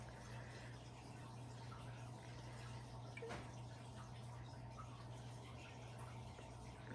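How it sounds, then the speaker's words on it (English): Water pours steadily into a round ramen bowl up to the fill line while a Japanese candy kit is made, a soft continuous trickle over a constant low hum, with no talking. "I need to pour water to the fill line on the round bowl"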